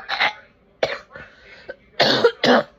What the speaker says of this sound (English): If I'm gonna keep on coughing